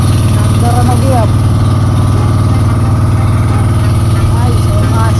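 A boat or vehicle engine running loud and close, a steady heavy hum and rumble that holds without pause, with people talking over it.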